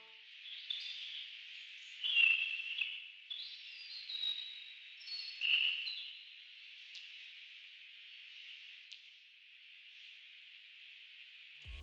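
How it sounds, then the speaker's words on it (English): A bird sound sample from a lofi kit, harshly EQ'd: thin, filtered chirps ride on a narrow band of hiss, swelling in a few bursts early on before settling into a faint, steady wash. "I went with this bird sound from the Pattern Sounds Liftoff kit."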